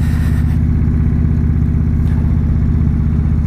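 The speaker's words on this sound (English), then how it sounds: "the sound of this glorious V-twin 1800 cc's" A big 1800 cc V-twin engine of a 2017 Indian Chieftain Dark Horse motorcycle revs loud and close, its deep, throbbing pulse steady throughout with no voices.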